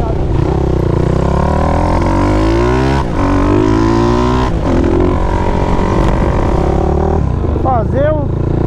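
A fuel-injected Honda CB 300 motorcycle built up to 470cc with a six-speed gearbox, ridden fast: a loud, close engine drones and climbs in pitch through the gears, with a quick shift near the end.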